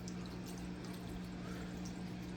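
The waterfall pump on a Top Fin Infinity Edge aquarium runs with a steady low hum beneath a continuous soft trickle of falling water, faint and unbroken.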